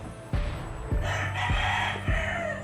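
A rooster crows in four loud, evenly spaced bursts close by, each one starting sharply and then ringing out over a steady farmyard background.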